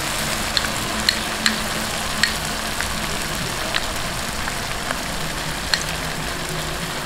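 Shrimp paste and softened tomatoes sautéing in a pan for chicken-feet Bicol Express, a steady close sizzle with scattered sharp pops and crackles throughout, no talking.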